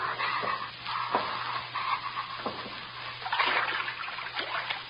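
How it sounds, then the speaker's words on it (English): Wading steps slosh and splash through shallow, ankle-deep water in a dark basement in an old-time radio drama, a rhythmic series of watery trickles and splatters, close and moderately loud, with no talk. "Wade through water if it isn't deep."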